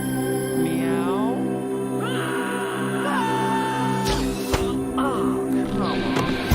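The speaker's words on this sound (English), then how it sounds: "Meow." A cat meows several times in short, wavering calls over a constant low hum, with a sharp clatter near the end.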